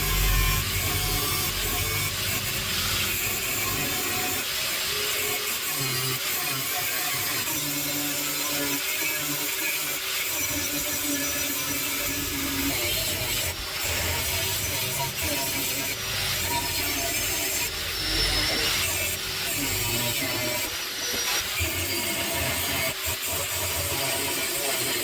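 Steel dagger blade stock with a paper template glued on is cut for a double-edged knife, giving a continuous rasping, grinding cut that runs the whole time at close range with no speech.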